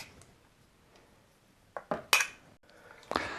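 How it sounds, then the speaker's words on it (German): Coconut oil is scraped from a glass jar into a bowl with a utensil, giving a few sharp scraping and clinking sounds after a quiet start, close and distinct, while making bird-feeder seed rings. "füllen das ganze Glas in eine Schüssel rein."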